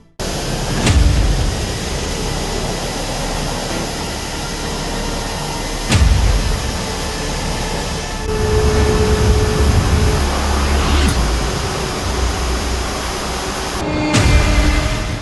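Passenger jet powered by two General Electric CF34 engines, a broad steady roar and whine that holds loud throughout, with brief louder thumps and surges near the start, middle and end.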